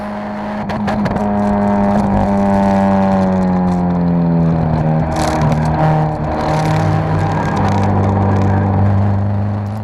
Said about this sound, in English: And there goes the rev limiter.